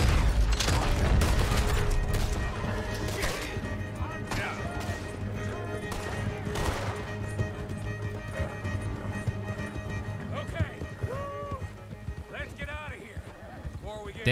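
Gunshots in Red Dead Redemption 2 ring out as sharp cracks and a volley of fire over galloping hooves and horse noises, with voices talking through the commotion.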